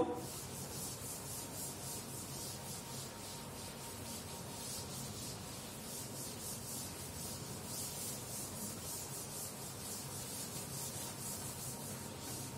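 A duster rubs writing off a classroom board in quick repeated back-and-forth strokes, a soft steady scraping rhythm heard close and alone.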